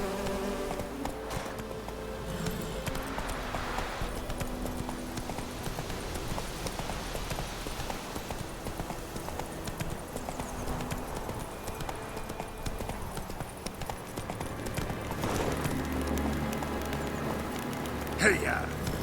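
Hooves of Roach, Geralt's horse in The Witcher 3, galloping in a continuous clip-clop under a dense bed of game music and ambient buzzing, with a louder thud near the end.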